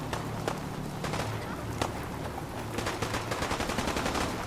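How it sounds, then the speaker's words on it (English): Gunfire in the video game Fallout 4, with repeated sharp shots in quick bursts, some rapid like automatic fire, moderately loud over a steady low background rumble. "I hear gunfire."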